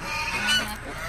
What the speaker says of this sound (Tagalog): So, ito yung ating mga gansa, yung 5 dito.